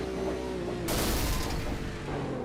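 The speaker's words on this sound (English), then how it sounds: "Just over-revved it. I think the motor had enough of it." A race car engine in a sports car racing game at Sonoma over-revs and gives out, with a sudden loud broadband burst cutting in midway over steady engine drone, then easing back.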